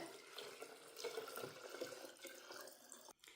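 Water pours into a jar of brewing kombucha tea, a soft continuous splashing and trickling that stays faint and close, with a brief dip at the end.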